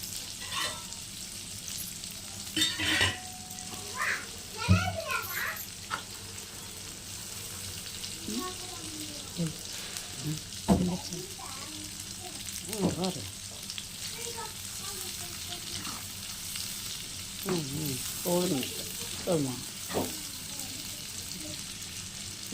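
Soya chunks deep-frying in hot oil give a steady crackling sizzle throughout, broken by scattered louder pops and a few scrapes of a spoon, with no talk heard.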